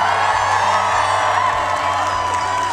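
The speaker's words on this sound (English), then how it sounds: "It's been decades since there's been a crowd like this outside the White House" A large crowd gathered outside the White House cheers and whoops continuously at a steady, loud level, a dense wash of voices with scattered shouts and no clear pauses.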